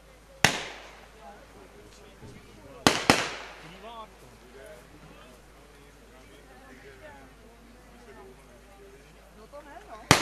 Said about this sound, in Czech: bude ukázka, která je taky naší nedílnou součástí a je to střelba